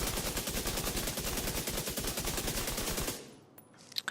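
Rapid, sustained SMG automatic fire from The Division 2 rattles in a dense, evenly spaced burst for about three seconds, then cuts off abruptly, leaving a quiet tail with a few faint clicks.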